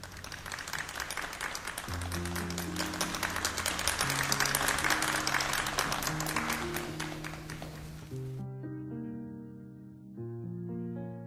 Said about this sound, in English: Please have a round of applause for our second group of graduates.